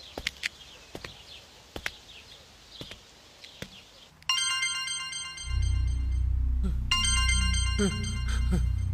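A telephone ringtone chimes out in repeated bursts amid a scene of footsteps and clattering knocks, joined by a low rumbling underlayer as the ringing continues.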